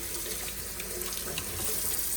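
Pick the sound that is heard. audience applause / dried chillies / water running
water running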